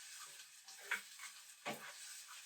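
Onions and garlic sauté in a pot with a steady, soft sizzle, broken by a few brief stirring scrapes and louder bursts of frying.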